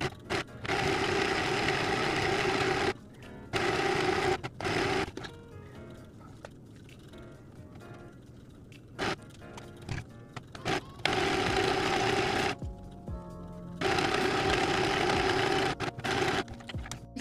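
A sewing machine stitches the side seam of a sweetheart bustier crop top, the pieces placed right sides together, running in several steady, loud bursts with quieter pauses of fabric handling between them.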